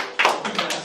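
A brief burst of hand claps, several quick overlapping claps close by, lasting under a second.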